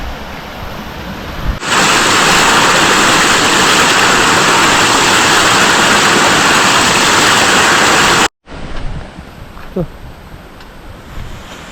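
A forest river flowing with plenty of water, a loud, dense, continuous rushing roar close to the microphone that stops suddenly, followed by quieter ambient sound with a brief vocal sound.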